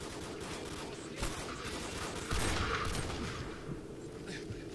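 Gunfire in the video game Modern Warfare 2 during a speedrun, a dense continuous rattle of automatic shots and distant blasts, fairly quiet and steady throughout.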